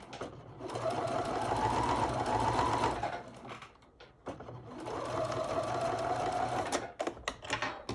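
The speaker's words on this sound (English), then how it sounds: "And I shall sew up." A sewing machine stitches a doll dress in two long steady runs, whirring close and loud with a short pause between them and a few brief clicks at the end.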